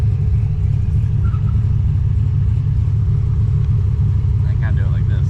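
Steady low engine rumble from an OBS vehicle being driven, a continuous loud droning hum that holds even throughout, with a brief higher whine near the end.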